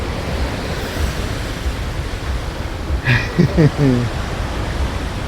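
Sea waves washing onto the shore as a steady broadband roar with wind buffeting the microphone, and a voice speaking briefly over it partway through.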